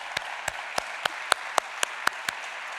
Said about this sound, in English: Please put a round of applause and let us welcome Nilesh ji on stage.